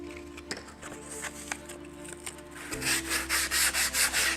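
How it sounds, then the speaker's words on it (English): Someone sands a carved wooden butterfly by hand with 80 grit sandpaper. Faint scattered rubs give way to loud, regular back-and-forth strokes up close. "We're going to take our 80 grit sandpaper and start sanding already the surface"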